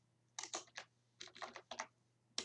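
Fingers typing on a computer keyboard while entering an accounting record in Odoo 8 software, quick bursts of close, crisp key clicks with short pauses, over a faint steady hum and no talking.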